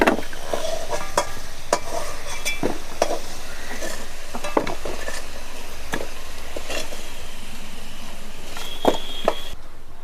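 Bay leaves and onions tossed into hot oil in a pan, a continuous sizzle punctuated by sharp spatula knocks and scrapes against the pan at irregular intervals.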